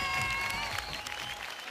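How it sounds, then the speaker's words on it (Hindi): Applause from an audience at a Bhojpuri award show, a dense, steady patter of clapping that keeps up at an even level through the short moment with no voices over it. "जोरदार तालियां फॉर खेसारी लाल यादव।"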